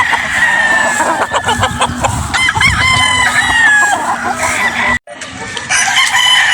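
Several roosters at a game fowl farm crow loudly and repeatedly, with clucking hens close by, filling the scene with dense, overlapping calls and no speech.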